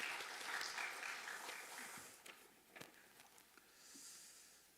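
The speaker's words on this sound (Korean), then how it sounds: "우리 격려의 박수 하겠습니다." A church congregation at a Wednesday prayer meeting claps in encouragement, a fairly full burst of applause that thins out after about two seconds into a few scattered claps and soft room noise.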